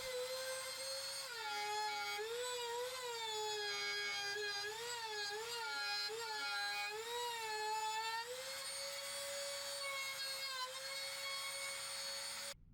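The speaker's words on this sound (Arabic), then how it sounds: "بالراوتر هبدأ اكل المستطيل ده داير ما يدور الاول" A trim router cuts a rectangular groove into wood, a loud, steady high-pitched whine that wavers slightly in pitch as the bit works along the edges, running continuously without talk.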